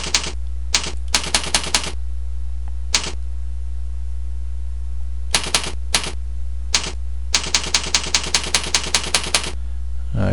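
Computer keyboard typing in clusters of quick keystrokes, entering a web address, with short pauses between bursts over a low steady hum; close and clear, no talking.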